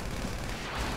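Gunfire from the video game GTA Online, a dense, continuous rattle of shots and booms filling the whole second at steady loudness.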